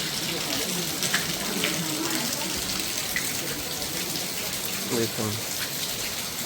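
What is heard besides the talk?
heavy rain falling in Vrindavan street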